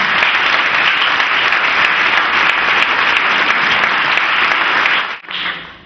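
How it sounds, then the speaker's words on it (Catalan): An audience gives strong, sustained applause at a regional pageant election, loud and steady for about five seconds before it drops off abruptly. "crec que us mereixeu un fort aplaudiment per part de tots"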